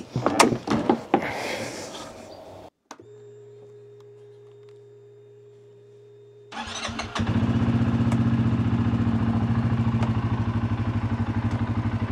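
A quad bike engine starts after some clattering handling noises and a brief quiet hum, then idles and revs steadily, loud and close, to the end.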